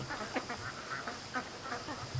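Free-range ducks on a lake, a large flock quacking repeatedly in short bursts at moderate distance over steady background noise.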